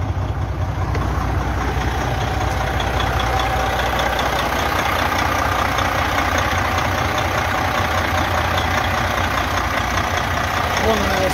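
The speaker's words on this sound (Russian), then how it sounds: "Мотор работает идеально." An ordered car's freshly started engine idles evenly at close range, a steady low drone with slight mechanical chatter running unbroken.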